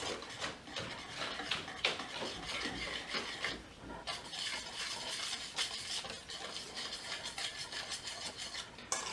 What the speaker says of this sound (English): Let them whisk that up a little bit. And then we're gonna add our sugar. Keep whisking.